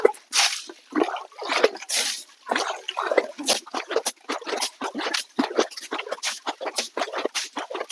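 Rapid, uneven bursts of spraying water patter and hiss continuously against a muddy John Deere tractor, close and fairly loud.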